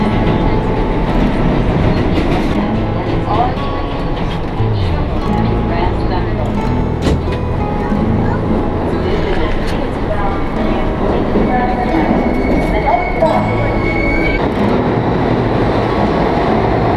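A New York City subway train in Manhattan rumbles and rattles steadily inside the car, wheels clacking and squealing faintly, while a person talks over it.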